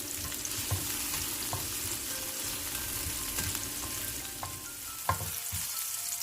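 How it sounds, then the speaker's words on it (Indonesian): Shallots, chili and galangal sauté in a wok with a faint, steady background sizzle and a few light scrapes and taps of stirring, quiet and without speech. "Tumis bumbunya sampai harum"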